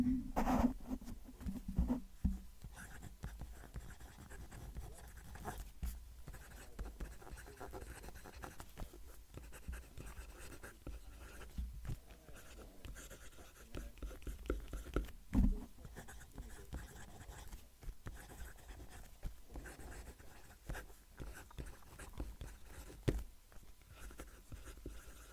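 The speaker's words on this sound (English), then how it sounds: "We'll move the mic down to the page and write the sentence." A fountain pen nib scratches and whispers across paper, close to the mic, in a soft, uneven stream of strokes with small taps and pauses.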